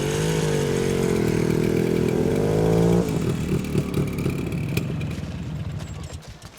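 A motorcycle engine fires up and revs hard with a loud, steady harmonic drone, then drops to a rougher, lower running note with scattered clatter and thumps, close by and alone.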